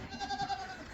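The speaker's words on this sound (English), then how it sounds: "Goats." Goats bleat softly on a homestead pasture, a faint wavering cry lasting about a second at a distance.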